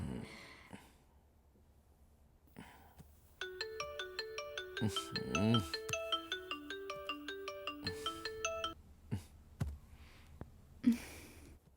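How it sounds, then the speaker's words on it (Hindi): A phone ringtone plays a repeating electronic melody for several seconds, with a few soft breaths and rustles before and after. "किसका फोन आ रहा है भार्गव?"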